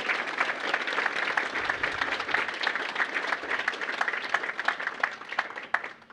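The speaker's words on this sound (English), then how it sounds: "So let's give them all another round of applause." An audience at a school CTE Signing Day event breaks into dense, sustained applause, with many hands clapping steadily for about six seconds before it begins to taper off.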